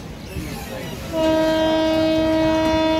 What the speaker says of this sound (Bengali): ট্রেনে হর্ন মেরে দিল